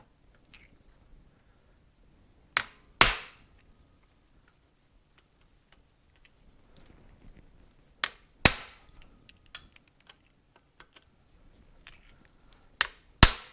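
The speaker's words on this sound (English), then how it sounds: "I'm going to get you out of the way here a little bit while I seat these with the" An impact driver seats the screws of a Suzuki TC125 motorcycle transmission case, firing in short, sharp rattling bursts of a fraction of a second each. A few separate bursts are spread across otherwise quiet stretches.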